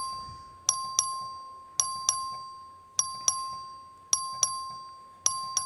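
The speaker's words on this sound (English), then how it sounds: "The clerk will ring the bell." A voting bell in a legislative chamber rings in evenly spaced pairs of bright electronic dings, each decaying with a ringing tail, alone and clear.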